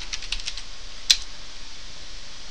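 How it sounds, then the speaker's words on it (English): Commands being typed on a computer keyboard while configuring a Cisco ASA firewall: a quick run of soft key taps early on, then one sharper keystroke, with quiet room tone after and no talking. "So we'll type network"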